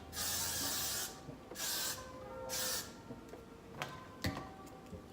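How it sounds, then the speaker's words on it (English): Three long hissing bursts of aerosol hair spray, evenly spaced, followed by a few small clicks and taps close by. "I'm gonna just spray my hair with some Got To Be free spray for a nice little extra hold"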